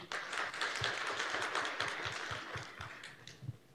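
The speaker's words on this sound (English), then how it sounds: "We need to give a huge round of applause for the whole Zoom team, please" An audience applauding at the Kathmandu Educational Transformation Summit 2024, a faint, steady patter of many hands clapping that carries on evenly and tapers slightly near the end.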